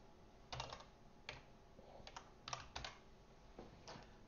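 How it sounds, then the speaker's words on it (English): Typing on a computer keyboard during a coding session, with scattered bursts of quick clicky keystrokes and short pauses, close and fairly quiet with no talk. "that is a lot of typing"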